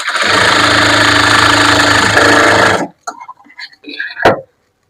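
A sewing machine runs in one loud, steady burst while stitching a churidar shoulder seam, then stops abruptly, followed by a few faint handling clicks and a short thump.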